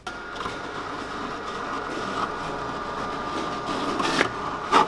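A vinyl cutter plotter slices glitter heat transfer vinyl with a steady, close mechanical whir and faint ticking, carriage bursts rising near the end, with no voices.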